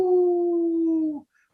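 A human voice imitates a werewolf howl with a single loud, close, sustained note that holds for just over a second and then cuts off abruptly.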